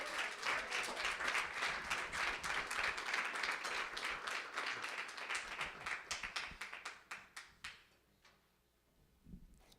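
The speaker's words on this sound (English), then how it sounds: "let's give them a big, big applause" Audience applause at a technology education talk, dense and sustained at first, then thinning into scattered individual claps that fade out near the end.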